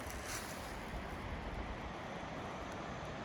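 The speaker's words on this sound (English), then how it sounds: "There are two creeks coming together to empty into Fontana Dam." Two creeks rush together into Fontana Dam in the Smoky Mountains, making a soft, continuous broadband wash of water mixed with wind buffeting the microphone.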